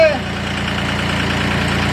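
A Nissan single-cab pickup's diesel engine idles steadily up close, a low rhythmic clatter with a constant rumbling hum.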